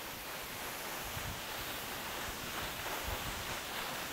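Rushing water from a waterfall in Nobres, Mato Grosso, makes a constant, dense roar that stays steady and fairly close throughout, with no talking.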